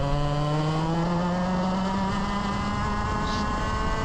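A race car's engine runs steadily on the formation lap at Ipswich, a loud close drone whose pitch slowly rises as it accelerates, with no voices over it.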